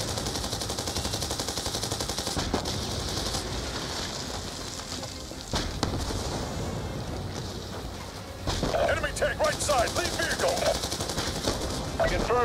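Enemy gunfire rakes a convoy in Black Ops 2, rapid machine-gun bursts and scattered shots rattling continuously, intensifying near the end, with voices speaking underneath.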